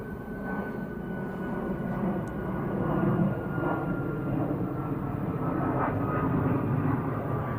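A Boeing 747 passes low overhead on arrival, a loud, continuous roar of jet engines that swells slightly and holds steady throughout.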